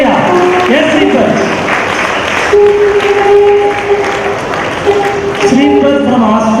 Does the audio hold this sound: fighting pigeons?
no